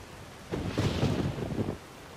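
Rain in the video game Skyrim, a broad, steady hiss swelling into a low rumbling roll like thunder midway before easing off, with no voices.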